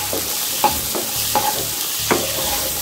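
Kidney beans sauté in a hot pan under a constant sizzle, while a spatula scrapes and stirs in a few sharp strokes spaced about half a second to a second apart.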